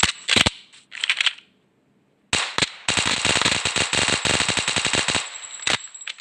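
Pistol shots from a Minecraft weapons mod, a few quick cracks, a short pause, then a long rapid burst of sharp, loud gunfire, with no voices.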